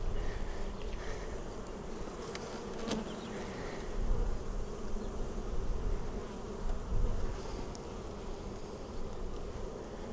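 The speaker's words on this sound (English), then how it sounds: "It's going to be loads of bees in here soon." Dense, continuous buzzing of many honeybees close by in an open hive in early spring, swelling and easing slightly, with a few brief sharp clicks.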